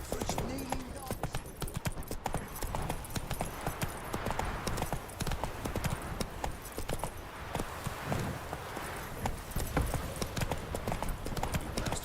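Roach the horse trots in The Witcher 3, a steady rhythmic clip-clop of hooves close up that runs the whole way through, mixed with game ambience while someone talks over it.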